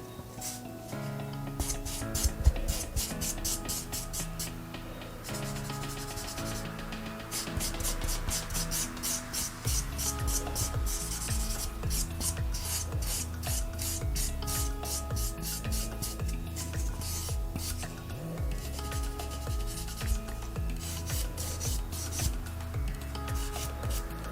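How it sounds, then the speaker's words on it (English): A 180 grit sponge buffer rubs across natural fingernails after gel removal, giving quick repeated rasping strokes in steady bursts, close and soft, with a faint musical bed beneath. "we've done the 180 grit sponge buffer on all 10 fingernails"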